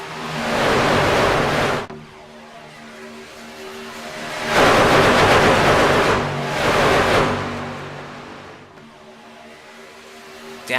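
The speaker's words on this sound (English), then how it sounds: "just hear these trucks roaring on by" Racing trucks thunder past one after another at Daytona Superspeedway in a racing video game, each pass a loud rushing roar that swells and fades, with quieter engine hum between three distinct passes.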